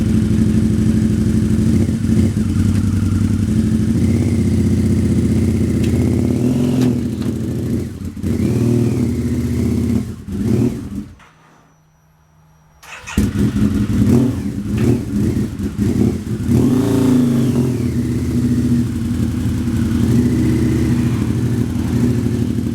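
A motorcycle engine idles and blips as the bike is backed down a toy hauler ramp using the clutch instead of the brakes, a loud, close, uneven running note that briefly cuts out near the middle before resuming.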